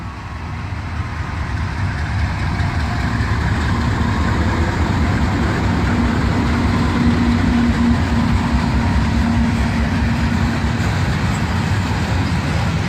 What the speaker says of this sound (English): we got a Norfolk Southern locomotive coming into town on the CSX line